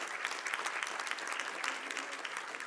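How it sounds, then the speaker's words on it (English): An audience claps for an all-female panel at a construction law conference, steady dense applause sustained from start to finish at moderate level with no voices standing out. "a hand of applause for our all-female panel"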